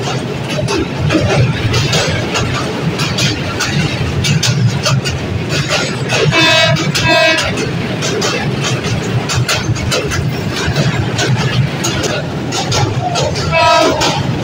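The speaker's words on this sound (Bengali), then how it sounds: "ট্রেন যখন তিস্তা নদীর উপর দিয়ে যাচ্ছিল তখন ট্রেন তার গতি কমিয়েছিল" Passenger train slowing as it crosses the Teesta river rail bridge, a steady loud rumble of wheels and carriages with rhythmic clatter and a few short horn blasts, with voices in the carriage beneath.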